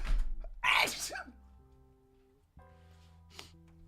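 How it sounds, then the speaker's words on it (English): A single sharp sneeze bursts out close to the mic, with faint background music continuing around it. "I gotta sneeze"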